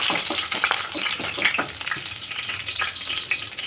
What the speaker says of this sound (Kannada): ಈರುಳ್ಳಿ ಕಂದು ಬಣ್ಣ ಬರೋ ತನಕ ನೀಟಾಗಿ ಬೇಯಿಸ್ಕೊಳ್ಳಿ.